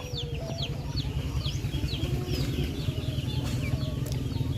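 Free-ranging chickens released outdoors cluck and chirp in short repeated calls at close to mid distance, over a steady low background rumble, with no talking.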